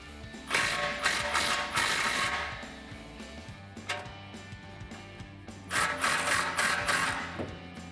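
A socket ratchet unbolting tailpipe clamps from the muffler on a RAM 1500 truck, two bursts of rapid ratcheting clicks separated by a quieter pause, close by with no talk.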